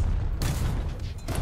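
Tank main gun fire in War Thunder, a German vehicle combining Puma and Marder designs, with a heavy low rumble and two sharp broadband blasts spaced about a second apart over constant engine drone.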